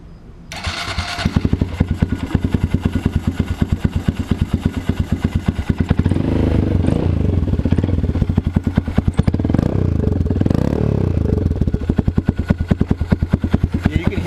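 A 2022 Honda Grom motorcycle engine starts up nearby and settles into a steady, loud, rapid single-cylinder idle throttle rising slightly midway, with no talking over it.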